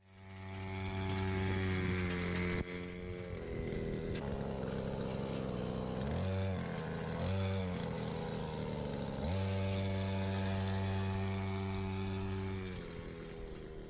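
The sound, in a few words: homemade go-kart with brushcutter engine running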